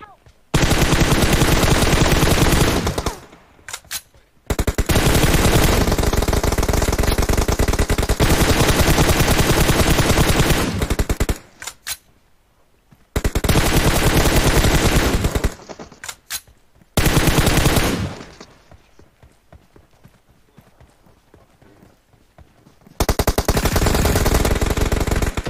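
Long, loud bursts of automatic AKM rifle fire with a muzzle attachment in the battle royale game PUBG, sustained volleys broken by short gaps of quiet, dense and close throughout.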